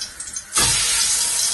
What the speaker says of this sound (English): So I'm gonna get the cow foot in right about now.